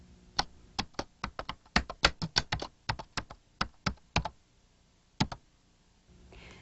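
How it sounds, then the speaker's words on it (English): Keys clack on a computer keyboard while a letter is typed in a 1994 word processor, about two dozen crisp, close keystrokes in an uneven rhythm, then a pause and two final taps. "let's type Dear Joseph"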